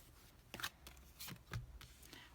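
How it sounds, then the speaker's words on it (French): Tarot cards slap and slide onto a table one after another, several soft, quick card placements at close range in a quiet room. "On pose les 6 cartes, bélier."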